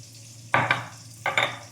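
Two short squelchy bursts from a hand mashing and mixing cooked dal with chopped garlic, green chilli, black cumin, salt and mustard oil, close and soft, evenly spaced about a second apart.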